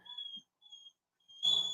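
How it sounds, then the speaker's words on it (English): A dog whines and whimpers in thin, high, drawn-out cries, close by, in three short bursts; the last is louder and rougher, like an agitated yelp. "My dog is wigging out."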